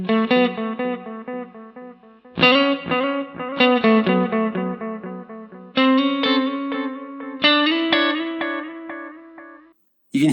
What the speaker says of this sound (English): Analog delay, again, it's just a standard delay, but this time the repeats aren't going to be very clean.